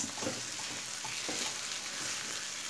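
Drumstick flowers and vegetables frying in a pan, a steady close hiss and sizzle with faint stirring scrapes underneath, no voices.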